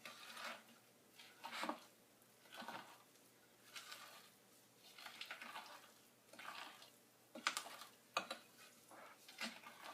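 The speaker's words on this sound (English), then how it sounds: "we're going to mix this. And it says it takes about 50 strokes" Waffle brownie batter stirred by hand in a bowl, quiet repeated scraping and sloshing strokes in an uneven rhythm, close and soft, with no talking.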